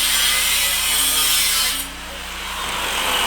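Steady loud grinding hiss as a power tool cuts along a large weld on a rally kart frame, continuous and close with a slight dip partway through.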